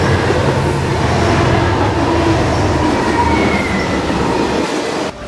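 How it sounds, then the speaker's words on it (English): Freight train rolling on rails in New Mexico, a loud, close, steady rumble and rattle of wheels with faint metallic squeals, continuous without talk until a sudden drop at the end. "I think I'm just gonna stay on this train to Belen, and end the trip there."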